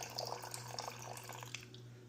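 Water poured for sourdough starter trickles and splashes faintly for a couple of seconds, small gurgling drops over a low steady hum.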